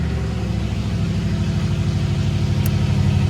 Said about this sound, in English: It's a cold start. Sounds like she's got an aftermarket exhaust.